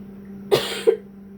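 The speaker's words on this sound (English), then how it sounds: "Hold on, I got a cough." Two short, sharp coughs close to the microphone, about a third of a second apart, over a low steady hum.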